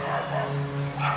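A small dog yips and whines excitedly during a walk on pavement, continuous and fairly close, with light background noise.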